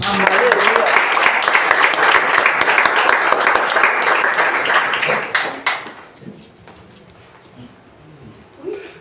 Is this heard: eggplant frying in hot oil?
no